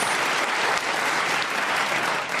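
A studio audience at a comedy panel show applauds in a steady, even wash of clapping from start to finish.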